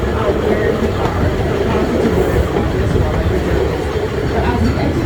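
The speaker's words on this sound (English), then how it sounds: "so the train could traverse this bend joining the hills from south to north" Heritage train running along the track at St Nicholas Abbey in Barbados, a steady loud rumble and rattle that continues throughout without a break.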